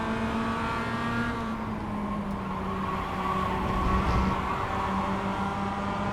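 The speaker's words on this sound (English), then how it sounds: "Car on your left." Steady engine drone of a race car holding a constant pitch, loud and continuous with no talking.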